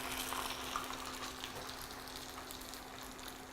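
An egg fries in a hot pan of avocado oil with a steady, close hissing sizzle that holds throughout, broad crackle without pauses.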